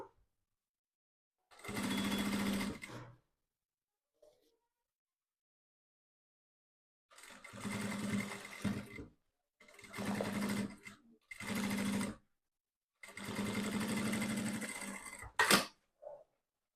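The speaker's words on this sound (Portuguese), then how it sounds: "E vamos costurar aqui, fechando a lateral, agora desta vez com margem de meio centímetro." Sewing machine stitching the side seam of a fabric lining for a small zippered pouch, running in four or five distinct bursts of steady whirring separated by silences, with a short final stitch at the end.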